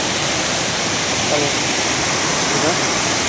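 A waterfall at a lake where people are fishing gives a steady, loud broadband rush of falling water that holds evenly throughout, with no speech over it.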